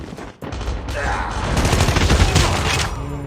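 Rapid automatic fire from an AK117 rifle in Call of Duty Mobile, a loud continuous burst of close gunfire that swells and holds for most of the few seconds after a brief quieter start.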